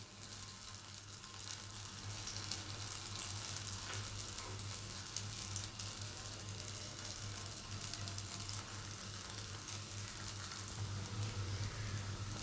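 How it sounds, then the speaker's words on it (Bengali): Soybean singaras deep-frying in potato-frying oil over low heat give a steady, quiet, even sizzle and crackle that carries on without a break. "আলু ভাজার তেলের মধ্যে আমি দিয়ে দিব সিঙ্গারাগুলো"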